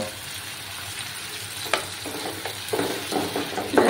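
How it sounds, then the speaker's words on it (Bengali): Spice paste frying with ground tomato in a pan for a Bengali vegetarian jackfruit curry, a steady close sizzle with scraping stirs that sharpen into louder bursts toward the end. "এবার আমি টমেটো একটা বেটে রেখেছিলাম সেটা দিয়ে দেব"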